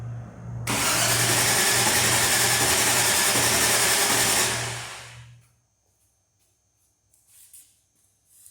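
A Range Rover Classic, just fitted with a replacement relay, starts up with a sudden loud engine roar that runs steadily for about four seconds, then dies away into near silence with a few faint clicks.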